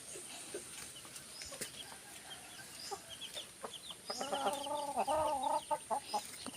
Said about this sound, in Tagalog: Daming mga manok dito guys, oh. Mga bantam.